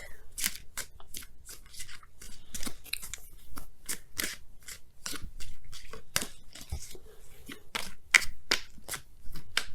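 Oracle cards being shuffled, drawn and handled on a table, a long series of quick, crisp snapping and riffling bursts in an irregular rhythm, close and fairly quiet, with no talk.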